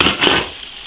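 Fermented black beans hit a hot iron wok and sizzle briefly for twice-cooked pork with garlic sprouts, a short close burst of frying and stirring that quickly fades.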